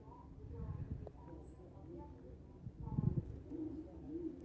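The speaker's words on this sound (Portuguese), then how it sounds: "O passarinho chato, caramba." Small bird calling in short repeated notes, heard together with pigeon-like cooing in a bathroom space. A person talks over much of it.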